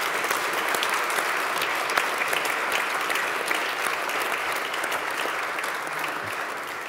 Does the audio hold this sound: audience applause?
yes